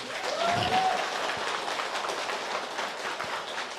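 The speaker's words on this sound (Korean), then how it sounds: "박수 한번 주십시오" Audience applause fills a hall during a business vision presentation, a dense steady clatter of many hands sustained throughout, with a brief whistle-like tone early on.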